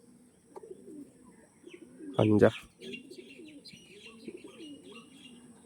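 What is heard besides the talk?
pigeons cooing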